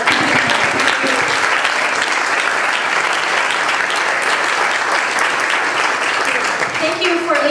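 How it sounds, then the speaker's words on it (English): A crowd at an International Day of Peace event claps steadily and loudly for several seconds, a dense sustained applause with a voice briefly audible near the end. "Let's give everyone a round of applause for coming tonight."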